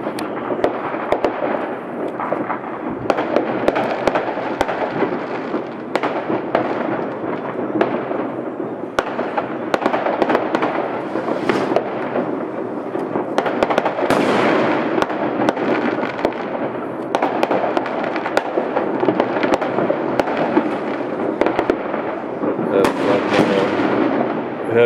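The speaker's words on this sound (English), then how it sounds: "We have some fireworks over here." New Year fireworks crackle and boom without pause, dense overlapping bursts and pops coming from nearby but out of sight behind buildings.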